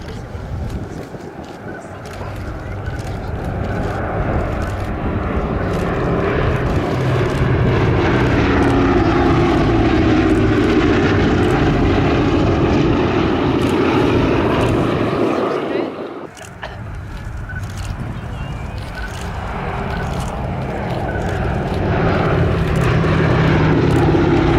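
A B-17 Flying Fortress propeller bomber flying at the RAF Scampton airshow, a loud droning multi-engine roar that swells, dips briefly, then builds again, with a commentator talking over it.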